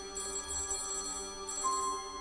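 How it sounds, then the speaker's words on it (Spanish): A telephone rings as a sound effect in an audiobook: two electronic ringtone bursts separated by a short pause, clean and moderately quiet, with no voices over them. "sonó el teléfono."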